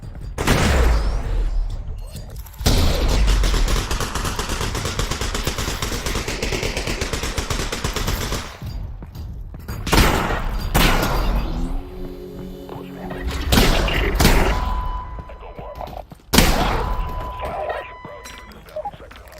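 Loud, dense bursts of gunfire and booming grenade blasts from the video game Half-Life: Alyx, sustained volleys broken by short gaps, explosions and clattering impacts up close, with a voice talking briefly amid the fighting.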